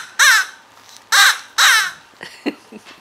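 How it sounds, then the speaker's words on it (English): A toy crow squawker sounding off with three loud, close caws in a row, followed by a few quieter squeaks and clicks. "They are squawkers."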